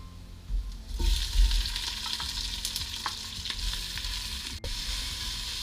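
Onion drops into garlic already sizzling in a pan for bihon guisado, and the loud steady frying hiss swells as it lands, with occasional scraping stir clicks and no voices.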